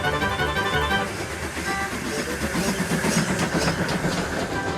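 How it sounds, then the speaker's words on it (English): Rail running sound for a small steam tank engine in a Thomas remake, a steady rumbling chug with clickety-clack over the track, continuous and fairly close throughout. "He steamed gently back into Knapford Station."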